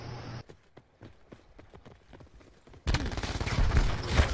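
Quiet scattered taps give way to a loud, rapid burst of automatic gunfire from a teammate in Call of Duty Black Ops 4, sustained and close for the last stretch.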